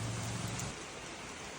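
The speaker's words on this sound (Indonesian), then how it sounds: "Hujan lagi nih." Steady rain falls at an outdoor setting around dusk, a dense even hiss that stays continuous throughout, with a low rumble in the first half that fades away; no one speaks.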